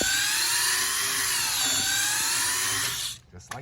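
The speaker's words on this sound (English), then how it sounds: "We're gonna drill around the circumference" A high-pitched drill whines steadily and continuously, grinding around a rubber leaf spring bushing on a 1999 Ford F-250 Super Duty front suspension, then cuts out abruptly near the end, leaving faint clatter.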